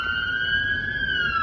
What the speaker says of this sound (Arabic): نيو جيرسي بوليس على طول